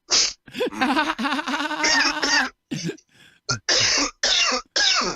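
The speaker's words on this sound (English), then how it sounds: "that cough right there, still not me" Several sharp, bursting coughs and harsh throaty bleats follow one another closely, loud and near, with brief pauses between them.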